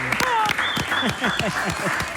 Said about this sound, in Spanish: Aplaudan, trabajadores, aplaudan.